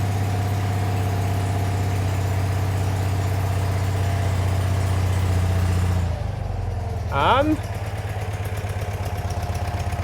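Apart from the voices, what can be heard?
Citroen 2CV engine idling after first start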